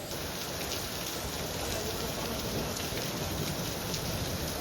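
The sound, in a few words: heavy rain falling outdoors by a pool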